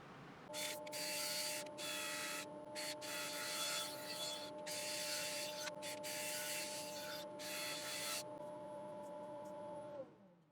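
Abrasive sanding against a spinning piece of African mahogany on a wood lathe, a steady broadband rubbing hiss in long strokes with short pauses over a constant motor hum, close and continuous for about ten seconds.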